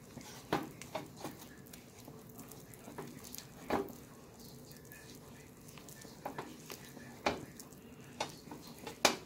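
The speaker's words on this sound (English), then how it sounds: "We're stirring that in." A spoon stirs cheese into a pot of garlic grits, making soft, thick scraping and patting sounds with scattered louder clinks against the pot, close and fairly quiet, with no talk.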